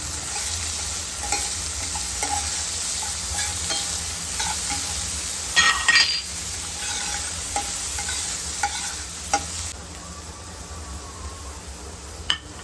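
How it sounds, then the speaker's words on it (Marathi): Onion frying in oil in a pan and stirred while it turns translucent, for a soy chunk bhurji. Steady loud sizzle throughout with scraping stirs and clinks, close, no talk. "तेलात कांदा घालून तो नीट ट्रान्सल्युसंट होईपर्यंत मी तो परतून घेतला आहे"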